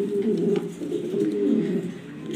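A breeding pair of pigeons, the hen sitting on eggs, coo in a continuous, low, throaty warble, close and fairly loud, with rolling swells and a few faint chirps behind.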